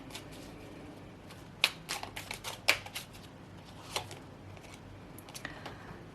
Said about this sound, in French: Je vais prendre la dernière carte.